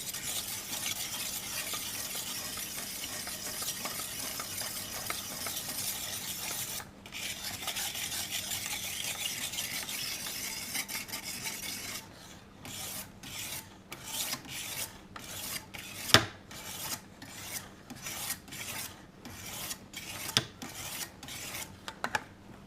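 A knife blade rubs on a 600-grit sharpening stone held in a homemade angle jig, first as continuous scraping and then as steady back-and-forth strokes, close and moderately loud, with no talking.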